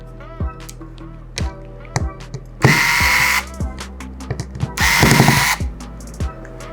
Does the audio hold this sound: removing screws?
yes